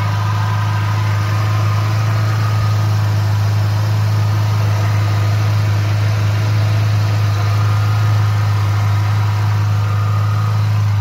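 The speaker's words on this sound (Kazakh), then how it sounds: "Мына ушул машинанын мотордун жүрүшү да." A 1994 Mercedes W124 with a 2-litre engine idles steadily nearby, a constant low hum with smooth vibration and no revving.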